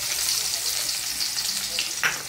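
Cumin seeds and chopped onion sizzle steadily in hot oil in a pan as the Bengali mutton-and-jackfruit curry base starts, with a continuous crackling fry close to the mic and a brief stir near the end.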